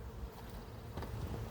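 Honey bees droning steadily and densely around an open hive during an inspection, a continuous close buzz with no talk over it.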